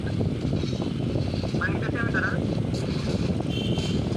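Airplane in a battle royale video game during a 4v4 tournament match: a loud, continuous droning engine hum runs throughout, with a voice talking over it.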